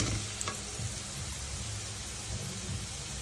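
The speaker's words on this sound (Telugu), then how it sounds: "వేగిన తర్వాత ఆవాలు, వేసి వేయించుకోవాలి." Mustard seeds crackle and fry in hot oil at the start of poha, a steady close sizzle with a faint spatter, no voices.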